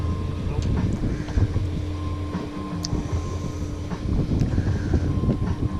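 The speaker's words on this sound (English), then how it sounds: "That's either as fast as that boat goes" Low droning engine of a motorboat running nearby on Lake Gogebic amid wind buffeting the microphone, with a voice murmuring faintly underneath.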